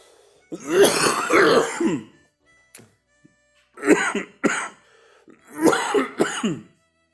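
Close, dry coughs and throat clearing from one person during a French spoken Torah lesson, in three separate bursts with quiet pauses between them and no talk.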